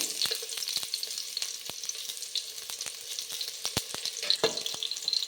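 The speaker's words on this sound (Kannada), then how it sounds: "ಇವಾಗ ಇದಕ್ಕೆ ಈರುಳ್ಳಿ ಹಾಕ್ಕೊಳ್ತೀನಿ." Sliced onions dropped into hot oil with popped mustard seeds while making sambar, sizzling and crackling continuously with frequent sharp spits and pops, fairly close and alone.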